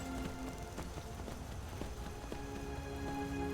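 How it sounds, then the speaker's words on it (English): Hooves of a ridden horse in Skyrim clip-clopping at an even, unhurried pace over a constant droning game ambience, mid-distance and moderately quiet, with no talking. "He's slowly getting more comfortable with the idea of a horse now that he's been riding on a ghost horse"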